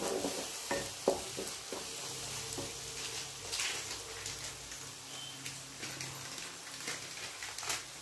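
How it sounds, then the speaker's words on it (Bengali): A spoon stirs vegetarian pasta with chaat masala and amchur powder in a hot pan. Soft intermittent scrapes and clicks run over a gentle, steady sizzle, with no talking. "ভালো করে মিশিয়ে নেব।"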